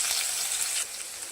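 Finely chopped green chilies, garlic and coriander sizzle in hot oil while being stirred, a dense, steady frying hiss close by that drops slightly in level partway through the brief moment.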